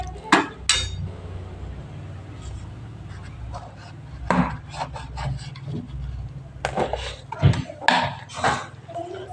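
A spatula scrapes and rubs against a cooking pan while pui shak (Malabar spinach) chorchori is stirred with a little added water, giving intermittent scraping strokes over a low background rumble.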